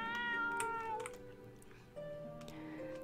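A cat in a horror RPG video game meows twice, drawn-out tonal cries over a quiet game music background, the second meow lower and longer.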